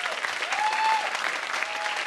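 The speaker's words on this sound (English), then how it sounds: "as she goes, you can clap again." An audience at a live talk event claps continuously for a couple of seconds, a dense, even burst of applause with a faint tonal note drifting underneath.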